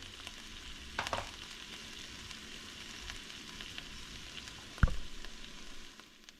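Seasoned canned black beans cook in a pan as their liquid reduces, giving a steady, soft sizzle with a couple of sharp utensil clacks against the pan.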